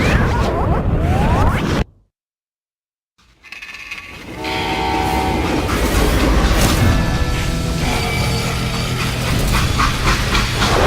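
Train rolling on rails in the video game Call of Juarez Gunslinger: loud mechanical clatter and rumble, a brief silent gap early on, then steady rattling with horn-like tones.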